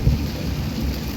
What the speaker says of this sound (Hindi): ये देखिए बहुत ज़्यादा तेज़ बारिश आ गई थी।